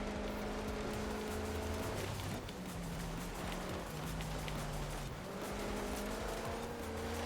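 Race car engine at full throttle in Forza Horizon 4, a loud, steady roar with audible gear shifts and brief tyre squeal, close and continuous without talk.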